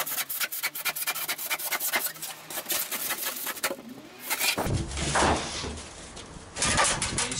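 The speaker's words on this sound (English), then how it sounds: "I'm going to cut straight through this with a handsaw" A handsaw cuts through rigid foam insulation board, such as Kingspan or Celotex, with quick rasping back-and-forth strokes, then a rougher, heavier scraping section near the end, heard close up with no talking.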